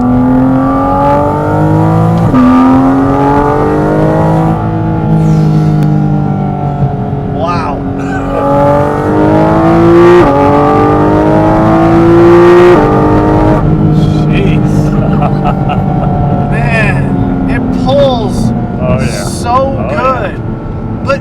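A Porsche Cayman GT4 RS engine revs loudly and continuously while the car is driven, rising and falling in pitch as it pulls through the gears, with people talking over it.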